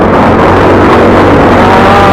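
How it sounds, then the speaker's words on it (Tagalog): Loaded, modified motorcycle engine running steadily at close range, a loud continuous droning hum with a dense low rumble and no break in level. "Ito ang gamit kong motor, kargado."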